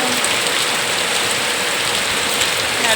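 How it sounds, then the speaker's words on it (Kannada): Heavy rain pours steadily, a dense, even hiss of downpour close by with no pauses and no voices. "ಇಷ್ಟು ಜೋರು ಮಳೆ ಬರ್ತದೆ"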